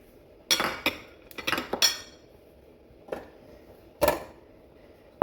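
A utensil stirs ogbono and palm oil in a pot, making a series of sharp metallic clinks and scrapes in irregular clusters with short quiet gaps between them.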